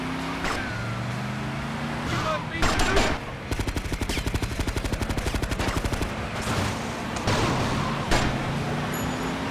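Rapid automatic gunfire from enemies riding atop taxis in a modded GTA Vice City mission, a dense burst of regular shots mid-clip with scattered single cracks before and after over steady car engine and traffic noise.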